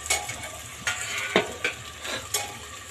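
Crushed garlic and ginger frying in a pan over browned onions for chana dal, a soft steady sizzle with several brief scraping stir strokes spaced through it, close and fairly quiet, no voices.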